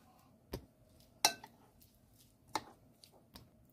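Knife chopping thawed frozen chives on a board, four or five sharp separate cuts at uneven intervals, close and quiet.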